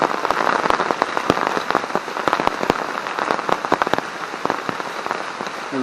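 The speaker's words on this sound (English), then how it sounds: "So basically it hasn't stopped raining" Heavy rain drums steadily on a tent during a solo wild camp, a dense continuous patter with sharper individual drops striking close by throughout, no voices.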